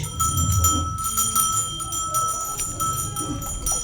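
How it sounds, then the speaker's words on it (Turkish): An electric school bell rings continuously in a Turkish classroom with a steady metallic tone, fairly loud and close, over a murmur of low background noise. "Zil çaldı gençlik."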